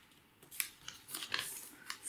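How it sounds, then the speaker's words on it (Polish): Scissors snip a small piece of paper to shape an origami leaf, a few quick, crisp cuts close up in a quiet room, with no talking. "to już trzeba wyciąć z jakiegoś kawałeczka papieru"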